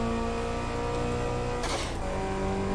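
A Bugatti EB110SS in Test Drive Unlimited 2 accelerates hard off the line, a steady high engine drone with a brief shift burst partway through, loud and close with no talk.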